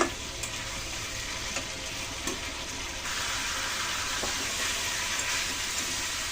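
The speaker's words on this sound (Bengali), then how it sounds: "মাছটা একটু কষিয়ে নিলাম" Rohu fish pieces sauté in a spice paste, a steady dense sizzle that fills the whole stretch and grows a little louder midway, with a few faint utensil clicks and no one speaking.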